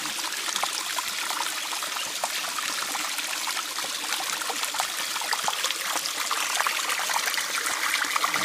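Water trickles and streams steadily from a hand-pumped hiking water filter out in the Australian bush. A close, continuous wet hiss carries on without breaks, and no one talks.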